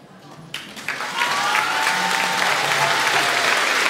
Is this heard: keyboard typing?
no